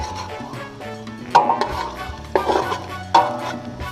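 Flour-coated pork for asado is stirred in a pan, with loud, close scraping and clattering strokes of the utensil in an uneven rhythm over a low background sizzle.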